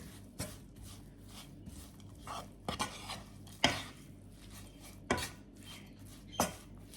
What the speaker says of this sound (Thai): คนให้เข้ากันเลยนะคะ